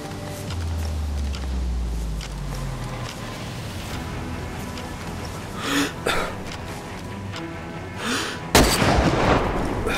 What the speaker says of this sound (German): Den Schuss gehört, sehr gut. Ich lauf zum Schuss.